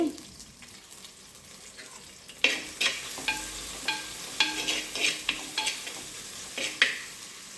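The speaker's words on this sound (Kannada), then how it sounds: "ಮುಕ್ಕಾಲು ಈರುಳ್ಳಿ ಹಾಕ್ತಾ ಇದ್ದೀನಿ ಈರುಳ್ಳಿ ಸ್ವಲ್ಪ ಬ್ರೌನ್ ಆಗಲಿ" Onions frying in a clay pot for chicken biryani, with a low sizzle and a run of sharp stirring and scraping knocks from about two seconds on, close and moderately loud, with no talk.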